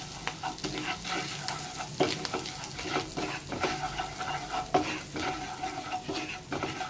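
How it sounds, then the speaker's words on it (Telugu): Garlic paste fries in a pan with salt, chilli powder, coriander powder and garam masala, giving a continuous close sizzle with repeated scraping spatula strokes. "గార్లిక్ పేస్ట్ వేగిన తర్వాత ఉప్పు, కారం, ధనియాల పొడి, గరం మసాలా వేసుకోవాలండి."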